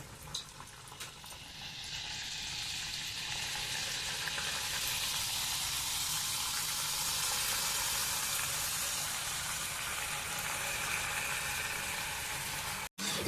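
Brown rice sakinalu fry in a wide pan of hot oil, giving a loud, dense, unbroken sizzle and bubbling that rises after the first couple of seconds and holds steady, ending in a brief clatter.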